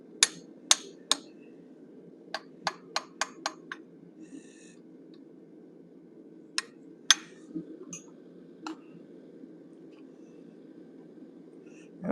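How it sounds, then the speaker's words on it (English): A blacksmith striking a straight hot cut with a hammer to form the nostrils on a forged cougar head, giving sharp, ringing metallic taps in quick clusters with pauses, over a low steady hum. "I'm going to use the same straight hot cut to do his nostrils"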